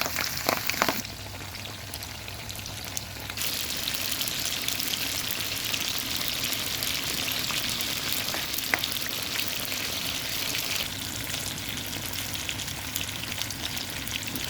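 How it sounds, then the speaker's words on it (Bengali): Chicken pieces fry in hot oil in a pot, a dense, loud, continuous sizzle that swells after a few seconds of quieter crackle and holds steady with occasional pops, and no one speaks. "হাঁড়িতে তেল গরম করে এখন একে একে মুরগির মাংস টুকরোগুলোকে ভেজে নেব।"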